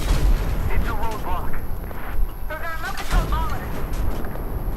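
Battlefield 4 campaign combat with gunfire aimed at a tank: dense bursts of shots and booming impacts that run throughout, with whistling, chirping effects over the top and a voice speaking underneath.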